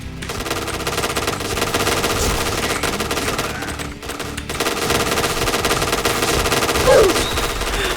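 Rapid automatic gunfire from a permanent weapon in the shooter game Point Blank, a dense continuous stream of shots running through the whole stretch with a brief dip midway, loud and close.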